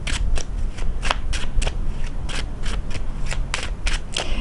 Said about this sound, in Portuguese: deixa eu embaralhar